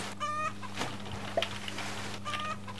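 Chickens clucking in the Roblox game Egg Farm Simulator, two short bursts of clucks near the start and end over a steady low hum, fairly quiet.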